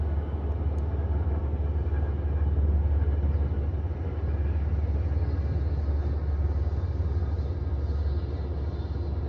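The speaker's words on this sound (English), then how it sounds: "one of Metro North's New Haven P-32s is seen leading a northbound train on its way to Poughkeepsie" A Metro-North New Haven P-32 locomotive leads a northbound train through the Bear Mountain region, giving a steady, heavy low rumble that rolls on continuously with no voices.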